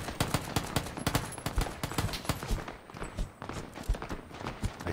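Rapid, loud bursts of gunfire crackle nonstop in the video game PUBG on Xbox One, with dense overlapping shots and a few quieter gaps.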